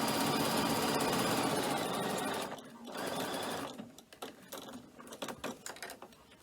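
A sewing machine set to a 2.3 stitch length runs loud and continuous while stitching a cork messenger bag, then stops, leaving scattered clicks and handling noises close by.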